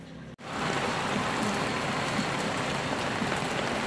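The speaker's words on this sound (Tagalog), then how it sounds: "Ang lakas ng ulan." Heavy rain pours steadily and loudly, a dense continuous hiss close by that begins abruptly after a brief gap and carries on unbroken without any talk.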